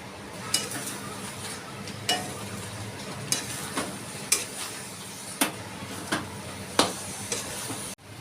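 A spoon scrapes around a pan in sharp strokes roughly every second over a low, steady sizzle of a thick coconut and jaggery filling cooking.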